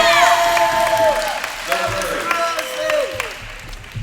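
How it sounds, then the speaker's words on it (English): A crowd at a live homecoming show claps and cheers, with shouts and whoops rising over the applause, and a few voices call out through it. "Another round of applause for Mr. Massey."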